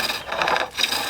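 Gouge foot rubbing against wood while roughing out on a lathe, a scratchy rasping friction that swells and fades in two quick passes, close and fairly quiet.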